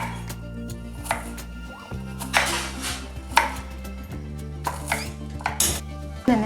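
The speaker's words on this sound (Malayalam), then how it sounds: "ഇതേപോലെ ചെറിയ ചെറിയ പീസായിട്ട് കട്ട് ചെയ്തെടുക്കാം." Banana stem being cut into small pieces with a knife on a board, a series of sharp close chopping knocks in uneven bursts, some clustered quickly, with faint clinks of kitchenware between.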